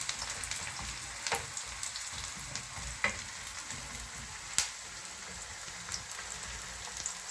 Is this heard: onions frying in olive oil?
yes